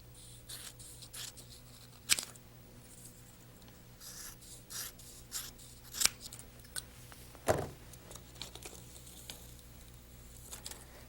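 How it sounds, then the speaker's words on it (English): Scissors snipping kinesiology tape into strips, a few sharp quiet cuts spaced apart over faint rustling and rubbing of the tape, close and soft. "Then, cutting the tape into 4 strips,"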